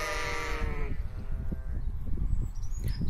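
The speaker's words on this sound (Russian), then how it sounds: "Что ж они так орут сегодня, эти бараны здесь?" Rams on a farm bleat loudly, one long wavering bleat up close at the start, followed by a dense jumble of other calls and thumping noise from the flock.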